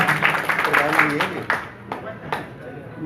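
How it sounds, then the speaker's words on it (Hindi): Audience at a Hindi political election rally in Uttar Pradesh clapping to welcome guests, a burst of sharp claps that thins to a few scattered ones, while someone speaks over a loudspeaker. "एक बार जोरदार तालियों से स्वागत करें आदरणीय राजवीर यादव जी बाबू गौतम जी।"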